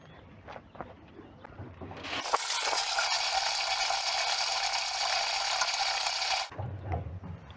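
A seed drill's ground drive wheel is cranked by hand during seeding-rate calibration, producing a dense, steady ratcheting clatter of the drive mechanism for about four seconds. Quiet background sounds come before and after.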